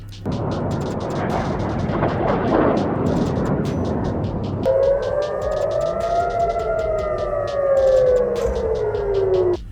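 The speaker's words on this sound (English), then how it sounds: "Sirens wailed, explosions echoed." Rumbling blasts and heavy booms of missile strikes fill the first half, then a wailing air-raid siren rises and falls steadily over continuing low rumble, loud and sustained, at night in Israel.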